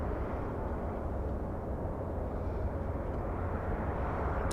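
Airbus A380 jet taking off at LAX, a steady, dense roar of engine power heard from a distance, constant in level throughout without any voices.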